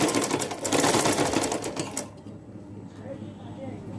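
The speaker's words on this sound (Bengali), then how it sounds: "আর একটা সেলাই করে দিয়ে দিই।" A domestic sewing machine runs close by in a steady, rapid whir of stitches while sewing a baby frock, then stops abruptly halfway, leaving quiet room tone with faint handling sounds.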